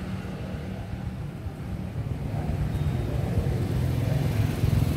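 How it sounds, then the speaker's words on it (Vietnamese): A 2006 Honda Future Neo motorcycle engine idles steadily nearby, a low continuous rumble that grows slightly louder partway through, with no talking. "Cả nhà nghe tiếng máy nè."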